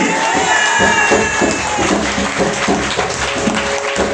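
A church congregation applauding and cheering during a sermon, loud and close, with clapping mixed into excited shouts and crowd voices that stay energetic throughout.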